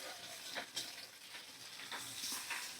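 Capsicum frying in a pan with other vegetables for an egg pasta, a quiet soft sizzle with occasional stirring scrapes and clinks, close but faint, no talking.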